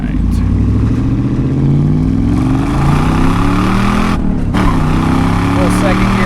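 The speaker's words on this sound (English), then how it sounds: "Little second gear chirp." A 1996 Pontiac WS6 hardtop with a 5.7 V8 and six-speed manual accelerates hard, the engine note rising through a gear with a brief tire chirp on the shift into second, loud and close from inside the car.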